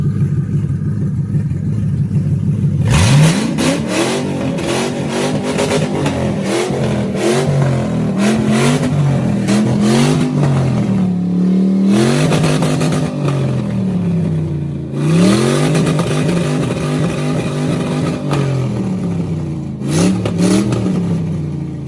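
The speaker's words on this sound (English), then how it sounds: "All we had to do is put the jump pack on and she fired right up." A Mustang engine, brought back to life with a jump pack after sitting idle through the winter, fires up and revs repeatedly, loud and close, with rising and falling engine pitch.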